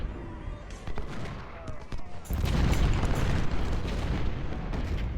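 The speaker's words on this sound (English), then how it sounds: "That counter battery fire" Artillery cannon fire in the Ultimate General: Civil War battle game, with 10-pounder guns trading counter-battery fire: scattered booms and pops at first, then a sustained, loud rumbling barrage of overlapping blasts from about two seconds on.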